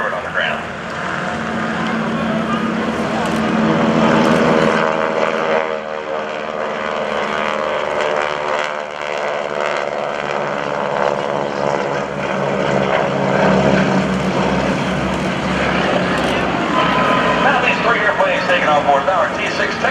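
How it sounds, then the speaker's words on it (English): A North American T-6 Texan propeller plane flies at an airshow, its radial engine droning steadily and rising and falling as it passes, with an announcer's voice over it on the loudspeaker. "Taking on board our T-6 Texan aircraft"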